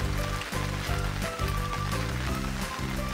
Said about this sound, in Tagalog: Yan, maulan po.